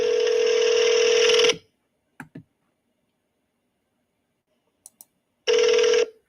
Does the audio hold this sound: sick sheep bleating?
no